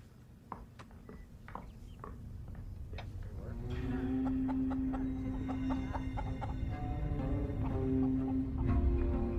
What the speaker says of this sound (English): Could you take Daniel's chickens away, please?